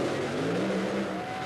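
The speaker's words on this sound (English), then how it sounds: "The engines are running." Top Fuel dragster engines running at the 1982 NHRA Cajun Nationals, a dense continuous roar with a rising whine, loud and steady over a short burst.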